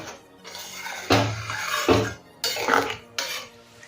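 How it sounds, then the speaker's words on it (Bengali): Potato and pointed gourd curry stirred in a pan, four distinct scraping and clattering bursts of utensil against cookware separated by short pauses, close and clear with no talk. "ভালো করে সব কিছু মিশিয়ে নেব।"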